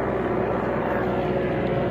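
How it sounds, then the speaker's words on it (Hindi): A helicopter passes over a residential neighbourhood in an area where helicopters are rarely heard, its engine and rotor making a continuous, fairly loud droning hum that holds steady for the whole moment. "बड़े अरसे बाद यहाँ पे हेलीकॉप्टर नज़र आया मुझे"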